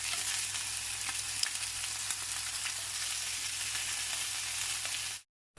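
Chicken wings fry in a pan, a loud, steady, close hiss of sizzling oil with faint crackles, holding evenly before cutting off abruptly near the end.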